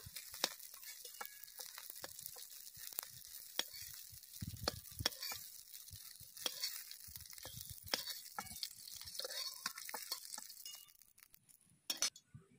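Prawn fritters fry in hot oil, a soft continuous sizzle broken by frequent sharp clinks and taps of a utensil against the pan or a plate as the pieces are lifted out, fading quieter toward the end.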